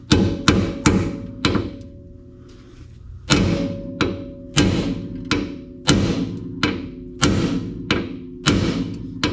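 A hammer repeatedly strikes a bolt extractor being driven into a stuck bolt during rear subframe removal on a Mazdaspeed3, a series of sharp metallic hits in two rhythmic bursts, close and loud with a ringing tone.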